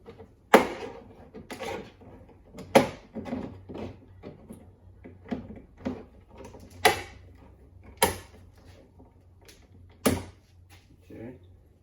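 Plastic trim tool prying off the front passenger door panel of a 2011-2019 Volkswagen Jetta, giving a series of sharp clicks and creaks from popping clips, spaced irregularly over several seconds, close up.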